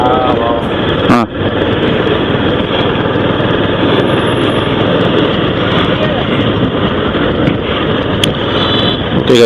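A motorbike rides along a road on a Chennai to Andhra Pradesh trip, with steady engine drone and heavy wind rush buffeting the microphone throughout, loud and continuous with one brief dip.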